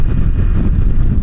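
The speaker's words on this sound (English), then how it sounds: "It is definitely a windy day." Strong wind buffets the microphone on a three-wheeled Can-Am Spyder ride through the Texas Hill Country, a loud, steady roar with no voices.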